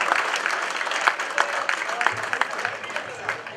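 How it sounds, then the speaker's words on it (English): Audience applause at a cricket association award ceremony, a sustained crackle of many hands clapping in a hall, fairly loud and even, with faint voices underneath. "Guys, give him a big round of applause."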